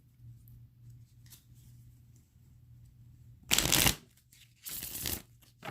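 A deck of tarot cards is shuffled close by on a cloth-covered table. There are two loud riffling bursts, each about half a second long, separated by a short pause, after a quiet stretch with a faint low hum.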